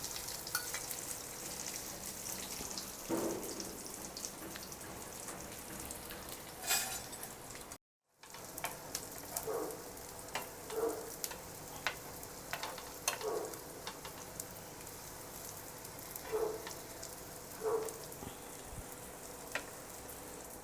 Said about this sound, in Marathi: थोडंसं वरून पण तेल सोडते मी आणि मीडियम हीटवर ठेवलेलं आहे.